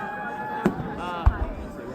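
New Year's Eve fireworks in Kirkwood pop in two or three sharp, distant bangs over a murmuring crowd, with voices nearby.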